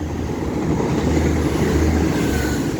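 A Class 195 diesel multiple unit on the Leeds to Chester service rolls through Castleton station, giving a steady, loud rumble of engine and wheels on rails close by.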